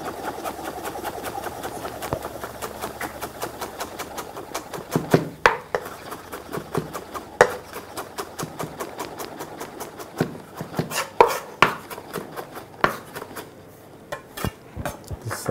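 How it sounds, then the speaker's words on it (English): A knife chops onion on a board in a string of sharp, irregular close knocks, bursts of quick taps with louder strikes scattered through, against a faint low hum, no talking. "This is our onion. We also need to chop it."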